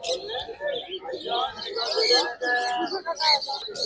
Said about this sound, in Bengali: এখানে সাদা লাভবার্ড থেকে শুরু করে বিভিন্ন কালারের লাভবার্ড